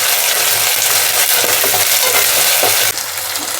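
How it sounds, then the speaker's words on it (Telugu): Ginger, garlic and onions fry in a hot pan with a loud continuous sizzle while being stirred, scraping sounds mixed in, the hiss dropping slightly near the end. "అల్లం వెల్లుల్లి ఉల్లిపాయలు కొద్దిగా వేగనిద్దాము"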